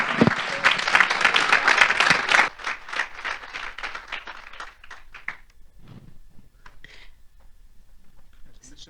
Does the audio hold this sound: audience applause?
yes